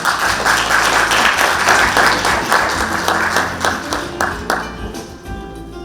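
A conference audience at a Korea–Africa diplomatic roundtable applauds to welcome a secretary general to the stage. The dense, steady clapping fills the room for several seconds and thins slightly toward the end.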